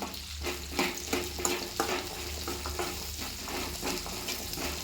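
Garlic and onion sautéing in oil over a low flame with curry leaves, for a dried fish dish, giving a steady soft sizzle broken by periodic scraping stirs, close and alone.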